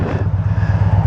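A motorcycle ridden through Texas Hill Country, its engine giving a steady, loud low rumble with a pulsing throb and no letup.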